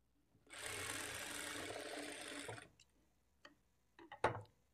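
Sewing machine stitching the front part of a blouse, one close two-second burst of rapid whirring stitches, followed by a few faint clicks and a brief clatter.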